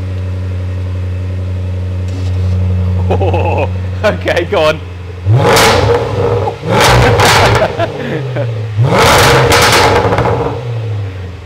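A Range Rover SVR with a Quicksilver exhaust revs with its valves open: after a steady idle hum and a few words of talk, three loud, close revs crackle and boom as deep, throaty bursts.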